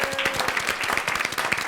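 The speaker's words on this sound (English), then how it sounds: "give a round of applause to Andrew Winston" Short burst of dense audience clapping for a panel moderator at an environmental finance event, fairly close and even, with a faint voice barely present underneath.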